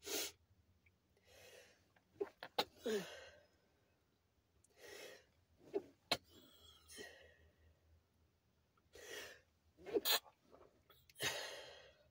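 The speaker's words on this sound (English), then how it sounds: "Here I go with this sneezing." Several separate sneezes and sharp breaths scattered across a quiet stretch, close and abrupt, with pauses between them.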